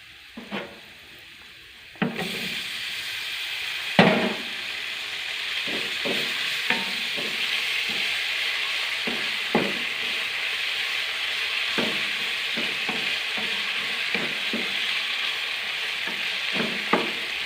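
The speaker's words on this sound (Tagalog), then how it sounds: "ilagay na natin yung main ingredients natin, si pork" Pork sizzling in a pan with garlic for homemade Afritada, a steady loud frying hiss throughout, punctuated by repeated scraping clicks of stirring against the pan.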